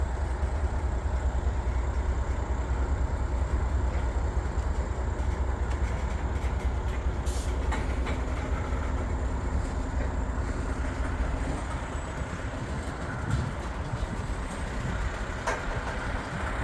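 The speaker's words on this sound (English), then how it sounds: "This is a long train." A long Norfolk Southern freight train rolls steadily past on the line north of Findlay, Ohio, its dense rumble and wheel noise continuous and close throughout, with occasional sharp rail clanks and no talking.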